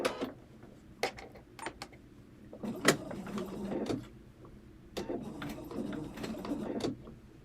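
A sewing machine back-stitches while binding a table runner, its motor running in short bursts of stitching that start, pause and resume, with faint mechanical clatter close by.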